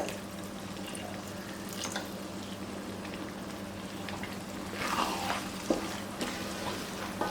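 Garlic pickle with vinegar being stirred in a pan over the flame, a soft, steady bubbling sizzle with faint scraping and a few clinks near the end.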